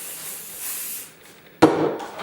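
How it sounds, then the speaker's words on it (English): A soft, brief hiss of hairspray from a can onto a strand of hair, followed by a sudden louder rustle or thump. "Gonna spray my strand."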